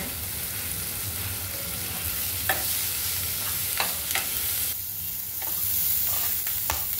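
Sliced okra for a simple bhindi sabzi stir-fries in a hot pan with a steady close sizzle, broken by sharp scraping clicks as the spatula turns the pieces.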